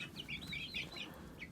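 Buff Orpington and Brahma hens cluck and murmur softly in short, uneven bursts, faint and close, with no talking.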